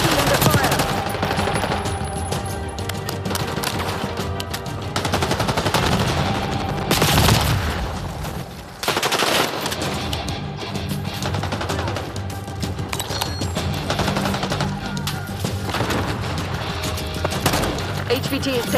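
Rapid machine-gun bursts and overlapping gunfire rattle almost continuously during a Call of Duty: Black Ops 6 match, with brief pauses, booming hits and game voices talking over the shooting.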